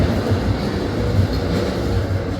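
A train rumbles past close by in Zurich in the morning, a steady low roar with a faint rolling clatter that holds evenly throughout, with no voices.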